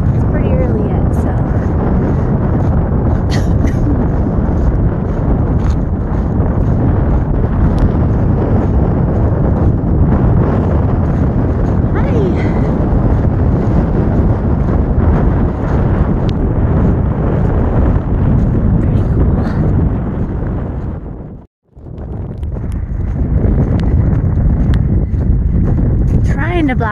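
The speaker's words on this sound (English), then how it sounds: "It is windy and chilly." Strong wind on a chilly mountain trail on the Pacific Crest Trail buffets the microphone in a constant roaring rush, loud and close, cutting out briefly near the end before resuming.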